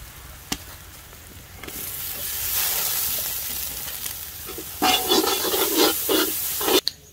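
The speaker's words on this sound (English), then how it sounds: "Cooking some nice catfish curry." Catfish curry with masala, curry powder, turmeric and jeera sizzles and fries in a pan, a steady hiss that swells louder with stirring and scraping bursts near the end, no voices.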